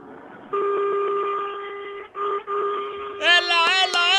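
A car horn honks repeatedly in long sustained blasts with short gaps, then a louder, brighter multi-tone horn joins near the end, fairly close.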